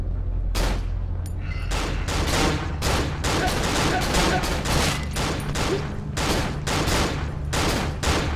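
Rapid, sustained volleys of gunfire from enemies in the horror shooter Cry of Fear, loud and close, with dense repeated shots hammering throughout.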